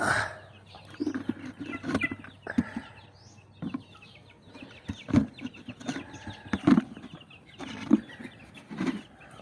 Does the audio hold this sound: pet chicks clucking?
yes